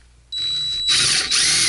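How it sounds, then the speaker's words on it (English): A power driver whines as it sets installation screws into the mounting plate of an INOX BD1000 privacy barn door lock. Two close, steady motor runs with a brief dip between them. "you're going to install the installation screws using a number 2 Phillips screwdriver"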